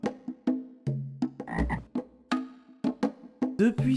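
A toad croaks in a series of repeated, resonant calls, loud and close, with no other sounds around them.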